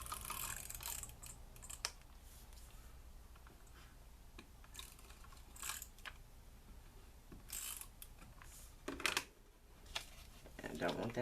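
A tape runner applying adhesive to a paper card for a handmade Thanksgiving invitation, giving soft close clicking and scraping rasps in short strokes, with quiet speech in the background.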